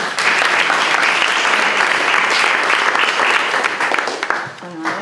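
Dense, steady applause from a lecture audience fills the whole stretch, loud and continuous, thinning slightly near the end.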